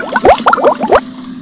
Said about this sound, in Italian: Quando l'acqua bolle, buttiamo gli gnocchi nell'acqua